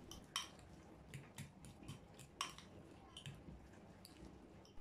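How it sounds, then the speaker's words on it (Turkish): Avocado mashed with a fork, a run of faint soft squishes broken by sharp clinks of metal tines against a bowl in an uneven rhythm. "Çatal yardımıyla eziyorum."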